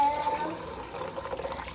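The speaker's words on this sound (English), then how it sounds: "We're gonna add 1/3 cup of some water." A third of a cup of water pours from above into a sweet and sour sauce mixture, giving a short, steady liquid trickle that splashes moderately close and fades gently.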